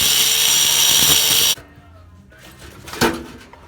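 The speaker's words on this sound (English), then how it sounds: "Here's our old muffler, and I'm just gonna go ahead and cut right here." A loud, steady high-pitched power tool cuts through an old steel car muffler, then stops abruptly and leaves quiet clinks and a final metallic clunk close by.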